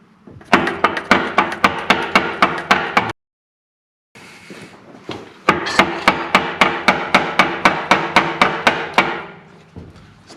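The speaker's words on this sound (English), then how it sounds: "that's not coming off. Get the hammer." Repeated hard metallic hammer blows in steady bursts, loud and close, striking a stuck part on a Volvo 340 car, with a brief pause of silence partway before the striking resumes.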